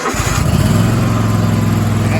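A Cub Cadet 44 zForce zero-turn riding mower engine runs loud and close, with a steady rumbling idle that holds even after a brief rising start.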